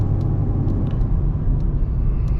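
A 900+ horsepower Camaro ZL1 driving, its engine and road noise forming a loud, steady low rumble heard from inside the car with no break throughout.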